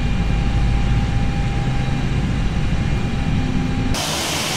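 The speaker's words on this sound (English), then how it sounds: "Engine 2 is now beginning to spool up." An Airbus A320's engine 2 spools up during start in a flight simulator, a steady broadband jet roar with a faint whine, loud and unbroken, then it abruptly changes to a hiss near the end.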